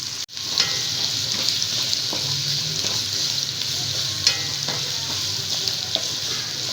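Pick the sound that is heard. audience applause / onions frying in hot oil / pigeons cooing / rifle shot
onions frying in hot oil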